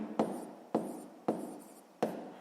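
Four evenly spaced scratchy strokes of a pen or pencil on paper as a maths exercise answer is written out, close and clear, with no speech over them.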